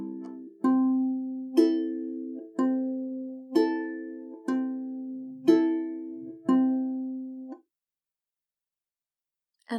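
Ukulele fingerpicking pattern for a song from Hamilton, soft plucked notes in evenly spaced groups with chords ringing and decaying between, close and quiet, played alone before a pause.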